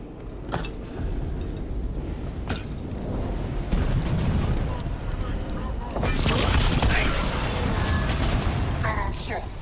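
Heavy cannon blasts in a video game boom through a dense, rumbling battle din, with several sharp bursts and a louder, sustained barrage near the end, while a voice talks over the action.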